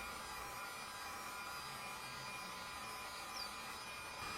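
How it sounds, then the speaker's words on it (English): A heat gun warms a dented plastic car bumper, giving a constant, even blowing whoosh with a faint electric whine. The sound holds steady throughout and there is no talking. "make sure to keep the heat gun moving"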